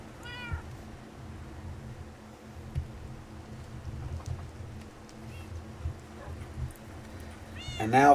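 A cat meows in the Minecraft video game, a short mew near the start and another at the end, over quiet ambient game noise and faint rain.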